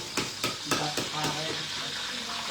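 Hot oil sizzles and crackles steadily in a pot, heating for duck larb, with a few sharp stirring scrapes near the start and a voice talking faintly over it.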